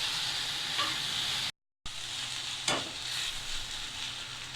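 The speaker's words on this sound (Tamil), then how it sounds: "நல்லா ஒரு 5 நிமிஷம் வதக்கி விட்டுட்டு தேங்காய் துருவலை கொட்டி கிளறி இறக்கிற வேண்டியதுதான்." Potato poriyal stir-fries in a pan, giving a continuous close sizzle with occasional stirring scrapes and a brief moment of silence partway through.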